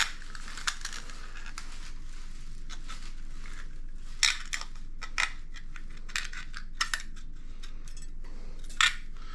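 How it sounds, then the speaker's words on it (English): Steel scissors snipping and cleaning up a cut aluminum can, a series of short, sharp crisp clicks and crunches spaced irregularly over quiet background, close and fairly faint. "we're going to grab us a pair of scissors and clean this"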